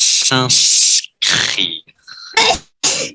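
One loud, close sneeze bursts out at the start, then a voice talks in French in short phrases.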